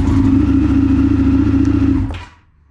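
An Indian FTR1200 motorcycle engine cranks over on a new NOCO lithium battery, a loud, steady churning drone for about two seconds before it cuts off and fades to quiet.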